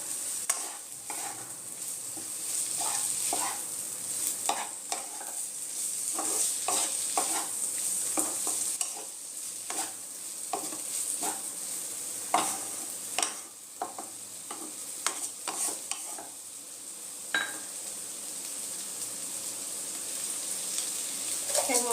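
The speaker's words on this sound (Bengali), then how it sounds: "ভেন্ডিটা দিয়ে দেব। ভালো করে মশলার সাথে ভেজে নেব।" Okra frying with spices in a pan for restaurant-style bhindi do pyaza: a steady hot sizzle punctuated by repeated scraping strokes of a spoon stirring, close up.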